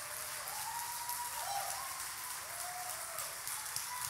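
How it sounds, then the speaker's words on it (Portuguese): A church congregation claps together in a soft, continuous patter that sounds distant and fairly faint. No one speaks. "Você pode dar uma salva de palmas a ele?"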